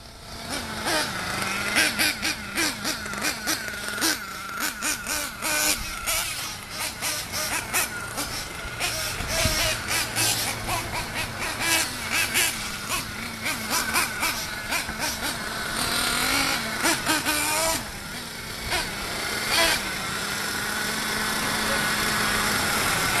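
A 1/8 scale nitro RC buggy's small engine whines at high pitch while running laps on a race track, rising and falling with throttle, under a commentator's talk.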